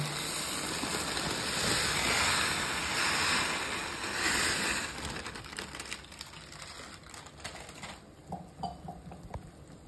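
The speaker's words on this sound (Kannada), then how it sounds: "ನೀರು ಕುದೀತಾ ಇದೆ" Water boils in a cooking pot before shavige vermicelli goes in, a dense rolling bubbling that is loud at first and then thins into scattered pops and ticks.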